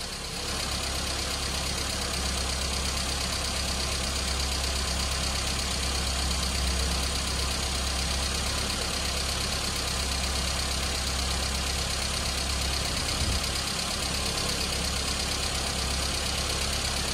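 A classic Mini engine idles steadily with a flooding carburettor, a continuous mid-pitched running drone with slight roughness and no pauses, heard close and alone.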